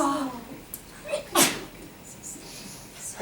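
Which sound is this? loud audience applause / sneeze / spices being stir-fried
sneeze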